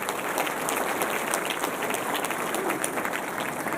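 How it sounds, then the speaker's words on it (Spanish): Applause from a crowd at a Sunday church anniversary service, a dense, steady patter of many hands clapping throughout, fairly loud and close, with no voices over it. "dale un aplauso"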